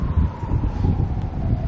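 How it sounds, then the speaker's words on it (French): Steady blustery wind buffeting the microphone on a New York street, a continuous low rumble with rustling, no voices. "Il y a du vent partout aujourd'hui apparemment."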